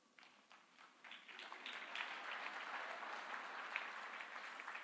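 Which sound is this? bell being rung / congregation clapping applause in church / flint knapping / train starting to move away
congregation clapping applause in church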